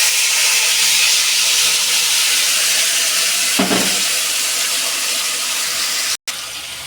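Mustard-coated hilsa fish, rubbed with mustard, green chilli, turmeric and salt, goes into hot oil in a wok and sends up a loud, steady, hissing sizzle that fills the whole clip with no talking.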